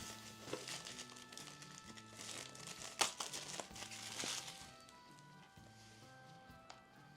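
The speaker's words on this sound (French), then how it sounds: "on va passer au déballage du Steelbook" Plastic wrap being peeled and crinkled off a Steelbook 4K disc case, irregular crackling bursts with one sharp snap midway, then quieter rustling toward the end.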